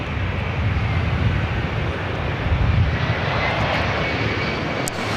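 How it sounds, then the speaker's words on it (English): A KLM Boeing 787-10 Dreamliner, flight 602 bound for Amsterdam, lines up for takeoff at LAX, its jet engines giving a steady, loud broadband roar that swells slightly midway and holds without a break. "787-10 Dreamliner lining up. That also could be a north side takeoff as well."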